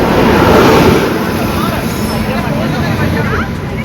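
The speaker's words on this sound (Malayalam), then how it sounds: "നമ്മുടെ ട്രെയിൻ എത്തി ഗൈസ്." The Antyodaya train pulls in at a station platform with a loud, continuous rumble and rail noise. Crowd babble and voices from the platform run through it.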